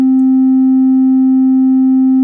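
A synthesizer sine wave with a modulated filter cutoff, sounding as a loud, steady, pure tone that holds unchanged for a couple of seconds, with no voices.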